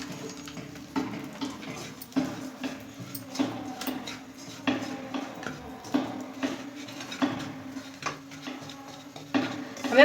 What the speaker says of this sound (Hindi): और इसी में हम थोड़ा सा हल्का सा नारियल का चूरा भून लेंगे